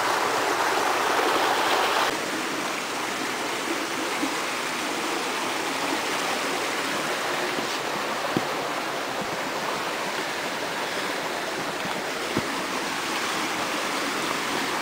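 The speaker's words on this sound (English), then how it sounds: "Wildbach in German, Wild Creek." A wild mountain creek rushes steadily, producing a dense, broad, unbroken roar of flowing water close by that stays constant from start to finish, with no voices heard.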